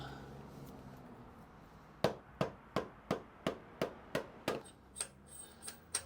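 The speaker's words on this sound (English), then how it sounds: "We're going to loosen that the locking bolt at the top." A tool works the locking bolt at the top of a DRZ motorcycle rear shock: a quiet lead-in, then a regular series of about ten sharp metallic clicks, close and evenly spaced.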